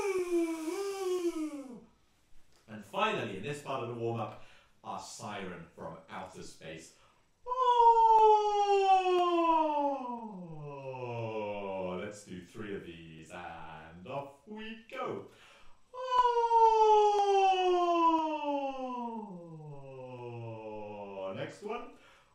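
A singing group's voices imitate a siren in a vocal warm-up, long sweeping glides that rise and fall in pitch, repeated several times between short breaths.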